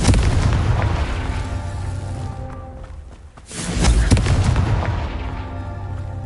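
Confringo spell blasts in the Hogwarts Legacy video game, heavy booming explosions with rumbling tails, a loud blast at the start and a second one around the middle, separated by a brief lull.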